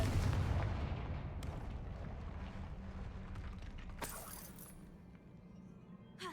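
A Confringo fire spell is cast in Hogwarts Legacy, giving a heavy explosive burst at the start that rumbles and decays, followed by scattered crackles and debris clatter.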